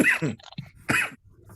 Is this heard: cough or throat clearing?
yes